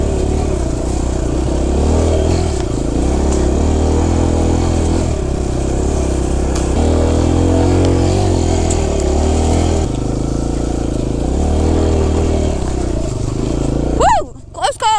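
A Kawasaki KLX140 dirt bike rides over logs on a steep wooded trail, its engine droning and revving loudly up close, with a voice speaking over it and a sharp burst at the end.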